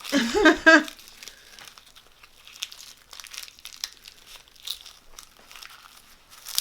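Paper crinkles as a sushi sandwich is folded, with a loud burst of close rustling at the start and then softer, scattered crackles while someone speaks.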